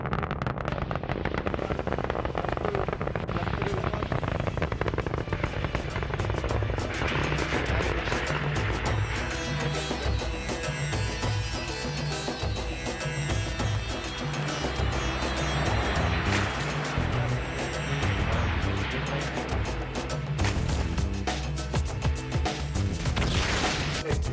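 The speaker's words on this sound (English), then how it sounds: "Ignition sequence start and lift off." Chandrayaan launch rocket igniting and lifting off, a sustained, dense broadband roar with deep rumbling and crackling that stays loud and steady throughout.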